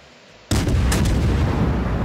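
Heavy gunfire opens abruptly after a brief quiet moment and becomes a dense, loud, continuous roar of shots with sharp cracks on top, sustained to the end with no voices.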